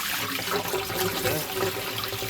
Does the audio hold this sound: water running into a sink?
yes